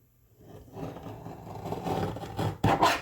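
A paper trimmer blade slices along the edge of a tarot card, giving a close, rising scraping rub that ends in a sharp, crisp cutting snap.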